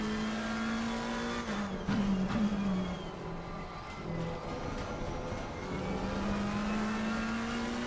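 Race car engines in Assetto Corsa Competizione at the Hungaroring, a steady high drone with shifting pitch, gear-change dips and a rising rev near the end, loud and sustained over eight seconds with no talk.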